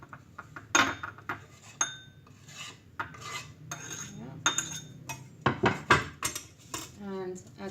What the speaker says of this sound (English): So garlic's chopped. Now let's put it in a bowl. A small bowl will be fine.